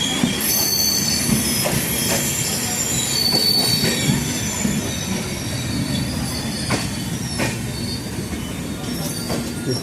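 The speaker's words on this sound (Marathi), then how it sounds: "ट्रेन थांबली आहे सिग्नलसाठी." A Jan Shatabdi express train on the Konkan Railway grinds toward a halt for a signal, its wheels squealing in high, sustained metallic tones over a steady rail rumble, loud and close throughout.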